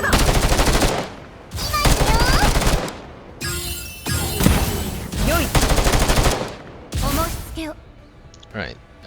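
Repeated bursts of loud automatic gunfire in the Girls' Frontline 2 video game during a boss fight, several long sustained volleys separated by short gaps, with game voices and effects mixed in.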